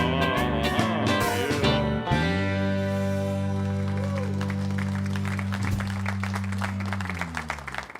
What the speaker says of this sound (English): It's always good to hear people clap for a song that you wrote